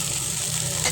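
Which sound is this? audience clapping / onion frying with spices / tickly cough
onion frying with spices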